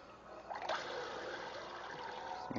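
Running water pours steadily from a tap over raw salmon being washed, a close, continuous rushing splash with slight shifts as the fish is moved under the stream.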